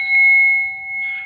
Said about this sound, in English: bell, or in this case, a Tibetan singing bowl.